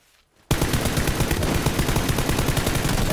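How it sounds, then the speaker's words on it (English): Dense, continuous automatic gunfire in a first-person shooter match on a desert map, bursting in loud and close after a brief quiet moment and hammering on without a pause. "I got the guy that was shooting."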